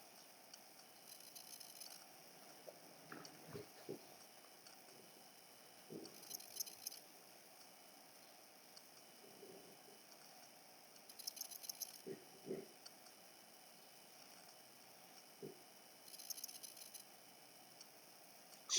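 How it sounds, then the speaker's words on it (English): Stirring stick spreading flakes across resin for a geode craft piece, heard as soft, intermittent scraping and squishing bursts, close and quiet, with pauses between strokes. "Spreading those flakes with my stirring stick."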